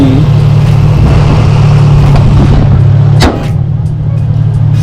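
A Nissan 350Z engine idles with a deep, steady rumble close by, then a sharp crack, after which it keeps idling slightly quieter.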